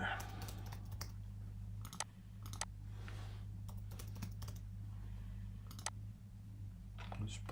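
Password typed on a computer keyboard: quick irregular bursts of key clicks with short pauses between them, close and fairly faint over a low steady hum.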